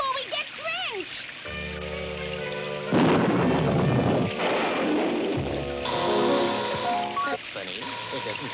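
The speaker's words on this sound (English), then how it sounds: "Look, Olive, there's a house we can go into till this storm blows over" Cartoon thunderstorm with loud crashing thunder rolls and rumbling bursts amid rain, mixed with dramatic orchestral score, continuous and close.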